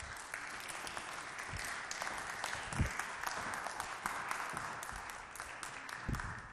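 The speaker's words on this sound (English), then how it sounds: "To have a round of applause" A church audience gives a round of applause at a Saturday night gathering on faith and politics, a continuous steady clapping heard somewhat distant and soft, with no talking.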